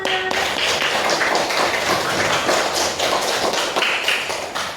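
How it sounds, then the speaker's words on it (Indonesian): A group in an Indonesian university classroom claps together, giving a quick, even run of sharp, close hand claps that stays steady for several seconds. "tepuk tangan untuk kita semua"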